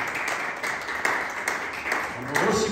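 A church congregation at the inauguration of Antioch Treasure Church applauds the worship group with steady, dense clapping that continues throughout.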